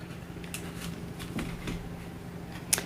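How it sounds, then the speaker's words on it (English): A deck of cards is shuffled up close, a quiet riffle of flicking cards with a few soft taps, brief and faint against low room noise. "I'm going to use this deck of cards, and I'm going to shuffle them up"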